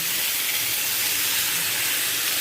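Soaked soybeans going into a hot pan of fried potato and pointed gourd for a katla fish curry, giving a steady, loud broadband hiss of steam and sizzle throughout, with no talking.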